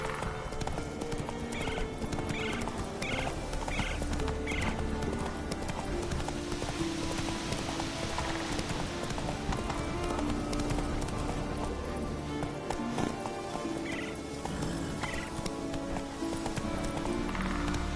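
Roach, the horse in The Witcher 3, gallops in a steady rhythm of hoofbeats across the whole stretch, with a couple of whinnies and a faint voice urging it on.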